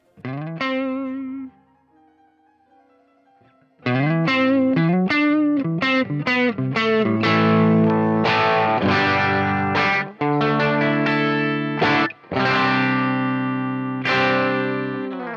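Distorted electric guitar through a Fractal AX8 humbucker preset with a kicker boost, loud strummed chords and riffs after a brief quiet, sustained passage, ringing with effects and a little reverb.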